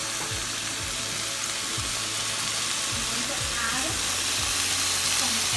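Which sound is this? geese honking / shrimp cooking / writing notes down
shrimp cooking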